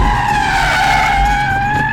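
Kia Stinger rear-wheel-drive car drifting, its tyres skidding in a loud, sustained screech with a steady squeal over the engine's drone, close and continuous, no talking.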